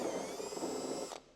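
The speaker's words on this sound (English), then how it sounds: "we're going to drill that out to the size for the pipe" A power drill boring into the cavity between the bed liner and body of a Ford Ranger truck bed, a single steady whining burst lasting about a second before cutting off abruptly.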